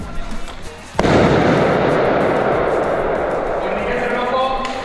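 An airsoft grenade goes off during an airsoft game at Dunkerque Airsoft: a sudden loud burst followed by a long, sustained crackling hiss of several seconds, with a voice speaking just before.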